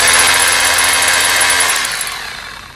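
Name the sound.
Bulldog rotary hammer running in hammer-only mode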